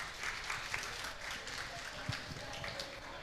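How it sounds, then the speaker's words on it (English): Applause from a conference audience for a panel discussing net-zero food business, a steady wash of clapping with faint crowd murmur, moderately distant and continuous. "Give them a round of applause,"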